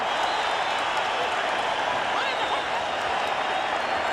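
A boxing arena crowd at the 2002 Erik Morales vs Marco Antonio Barrera rematch erupts as the action heats up, a steady roar of cheering and clapping under a commentator's voice.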